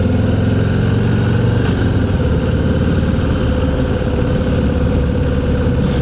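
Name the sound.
Harley-Davidson Low Rider ST motorcycle engine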